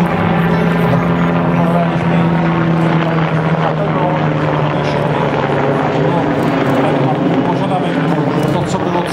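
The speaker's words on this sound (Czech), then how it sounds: "aby na těchto vrtulnících bylo možné létat akrobaci, ale aby bylo možné létat akrobaci takovou, jakou teď vidíte" A Flying Bulls Eurocopter MBB Bo105C helicopter flies aerobatics at the Pardubice air show, its loud, steady rotor thrum and engine drone filling the air while a commentator talks over it.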